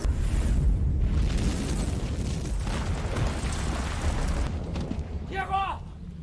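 A grenade blast in a film scene booms as a loud, sustained roar of low rumble and debris, fading near the end into a brief high-pitched tonal sound.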